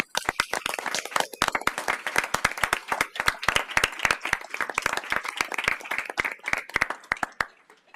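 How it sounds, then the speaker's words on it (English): Audience applause at the Fort Mill school board meeting, honoring a group that qualified for a World Championship: steady, dense clapping from many hands that holds for the full stretch, lively and fairly close. "let's give them a huge round of applause"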